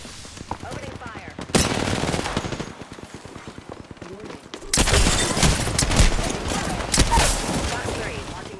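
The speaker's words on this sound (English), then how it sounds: "Opening fire." Sustained automatic gunfire in the video game Apex Legends, loud rapid bursts that stop briefly and then resume, with rattling shots running through most of the clip.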